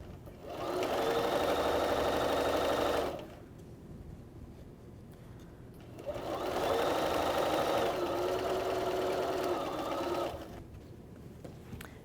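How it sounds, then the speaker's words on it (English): A sewing machine stitches a seam across quilt fabric pieces sewn right sides together, running in two steady whirring bursts of about three and four seconds, with a quieter pause between them. "put them right sides together and stitch a seam all the way across"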